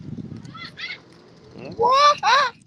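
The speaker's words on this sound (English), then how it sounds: "That was a bird who made that sound. A seagull to be exact." A seagull gives loud harsh calls, two strong cries near the end, heard outdoors by a bike lane after some muffled ambient noise and faint earlier squawks.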